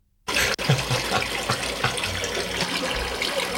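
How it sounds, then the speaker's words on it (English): A river recorded outdoors and played in reverse gives a steady, dense wash of rushing water that swells in after a brief silence and continues unbroken at moderate loudness. "I wanted to record a river, just to see what it sounds like backwards."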